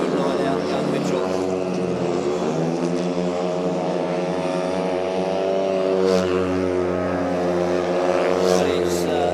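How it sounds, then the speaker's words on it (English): A speedway motorcycle engine roars under a steady throttle down the back straight at a dirt-track race meeting, a loud, continuous droning buzz heard with a commentator talking over it. "Mitch McDermott unwinds the throttle on the 7 machine, goes down the back straight"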